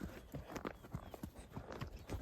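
A young colt walks on hard ground, its hooves clip-clopping in a steady, close, fairly quiet rhythm, with no talk over it.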